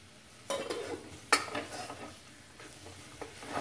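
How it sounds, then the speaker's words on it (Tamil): Two tomatoes sautéing in oil in a pan for a quick chicken curry, a quiet sizzle with a handful of scraping spoon strokes and light clinks against the pan, close and soft, no speech. "தக்காளி கொஞ்சம் வதங்கட்டும்"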